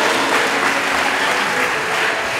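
A church congregation at a Sunday service bursts into sustained applause, a dense, loud, even wash of clapping from many hands throughout, with a voice faintly present beneath.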